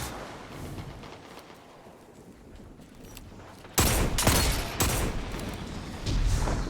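Gunfire from the Destiny 2 Rumble multiplayer mode: a quieter stretch of scattered shots, then a loud burst of rapid fire in the second half, dense and close.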